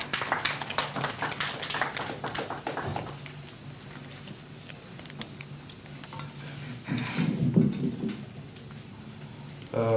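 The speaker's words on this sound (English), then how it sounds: "Can we give him a applause as he comes?" Applause rises from an audience at a SADC Industrialisation Week media ceremony, a thick burst of clapping that fades after a few seconds into quieter room noise with scattered later patters.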